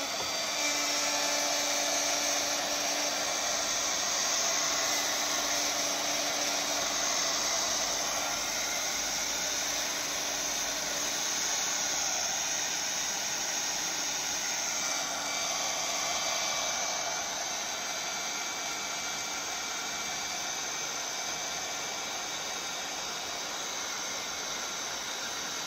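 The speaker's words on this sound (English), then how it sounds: "The sweet sound of the heat gun." A heat gun blowing hot air while working on resin, a steady high-pitched whine and rushing airflow held close and constant for the whole stretch with no other sounds.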